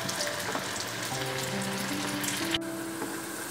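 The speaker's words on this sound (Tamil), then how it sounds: "அடுப்பில் எண்ணெய் வச்சு காஞ்ச உடனே 4-5 வடையாக போட்டு பொன்னிறமாக பொரித்து எடுக்கணும்" Poha vada, flattened rice dumplings, deep frying in hot oil make a steady crackling sizzle throughout, with faint scraping and clinks mixed in and no talking.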